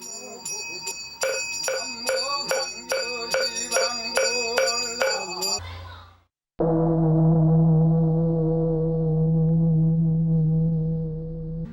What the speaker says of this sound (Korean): 불교에서 종소리는 중생을 구제하여 악업을 멈추게 한다고 한다.